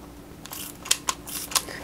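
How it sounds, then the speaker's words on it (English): Three quick, soft hissing spritzes from perfume bottles with three-hole atomizers, spaced apart over a faint background hum, close but quiet. "I'm gonna spray all three of them"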